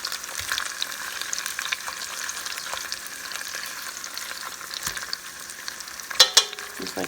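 Oxtails sizzle and fry steadily in a hot pan as they are turned over for browning, with a continuous crackling hiss, a few soft scrapes, and a couple of louder clanks near the end.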